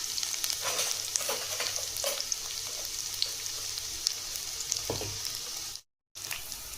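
Garlic fried in a pan with fennel and cinnamon for tomato kuzhambu sizzles steadily up close, with light stirring clicks and a brief dropout near the end.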